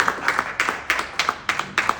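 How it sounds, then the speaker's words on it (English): An audience gives itself a round of applause, with close, fairly loud hand claps in a quick, somewhat rhythmic pattern and no voices. "give yourselves a round of applause"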